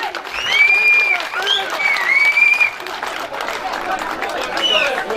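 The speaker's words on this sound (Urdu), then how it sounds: "بھرپور تالیاں" Audience applause at a speech gathering, a crowd clapping steadily throughout under overlapping voices and tonal whistle-like calls, moderately loud.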